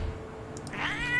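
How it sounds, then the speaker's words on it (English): A cat in the hidden-object game Dana Knightstone 4 gives a single short, rising meow near the end, close and clear over a faint background hum of game music, with no talk. "It's a kitty cat!"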